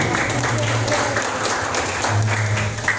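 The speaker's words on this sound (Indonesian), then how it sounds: "Tepuk tangan dulu buat Pak Rizky dan Bu Rizky." An audience claps for Pak Rizky and Bu Rizky in a steady, fairly loud round of applause, with low voices murmuring underneath throughout.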